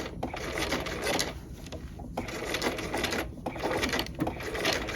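A sewing machine stitches a pocket bag in steady, rapid bursts of mechanical clatter, with brief slowdowns between runs.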